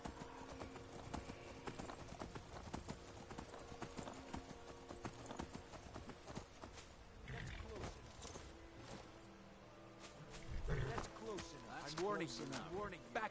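Horse hooves clip-clopping at a steady walking rhythm in Skyrim, up close, with game sounds and a brief voice partway through.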